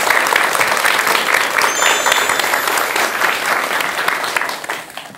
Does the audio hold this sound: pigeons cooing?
no